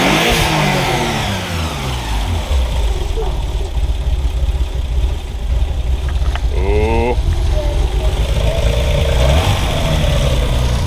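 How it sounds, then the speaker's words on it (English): A long-idle Nissan 300ZX twin turbo engine runs rough and uneven, its close, loud idle surging and sagging as it nearly stalls, with a brief voice cutting in partway through. "this car hasn't been ran in a long time, so I'm not surprised there's still a little bit of hiccups at it, because it wanted to stall right there"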